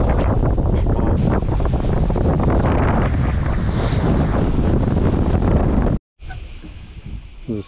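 Strong wind roars loudly and continuously across the microphone aboard a Lagoon 42 catamaran under sail, mixed with rushing water, then cuts out briefly before a quieter gusty stretch resumes.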